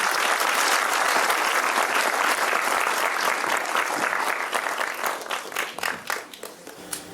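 A lecture audience welcomes an archaeologist with loud, sustained applause that holds steady, then thins out into scattered individual claps near the end.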